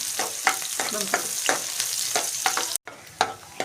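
Onions sautéing in a pan over low gas, a soft sizzling bed broken by repeated scraping and stirring strokes at a close distance, with a brief gap near the end.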